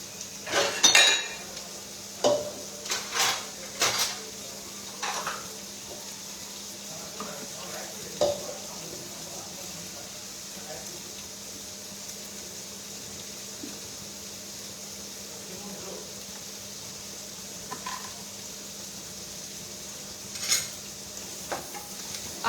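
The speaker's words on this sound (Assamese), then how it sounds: "পিঁয়াজখিনি মৰহি যোৱাকৈ ভাজি ল'লেই হ'ল" Onions fry in a pan with a soft steady sizzle, broken by clinks and scrapes of a utensil stirring against the metal, loudest near the start.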